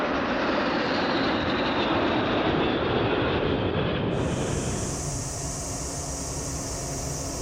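A Czech-designed L-39 training jet flying an aerobatic display gives off a loud, continuous engine roar, and a sharp high turbine whine joins partway through and holds to the end.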